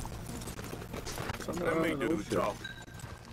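Horse hooves clip-clop steadily in Red Dead Redemption 2, moderately close, under game dialogue and a player talking over the action.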